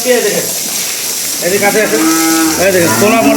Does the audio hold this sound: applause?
no